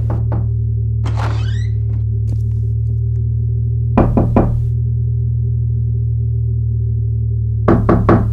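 Knocking on a door in a horror game, heard as sharp, close knocks in short clusters of about three, spaced several seconds apart over a constant low electrical hum, with no one speaking.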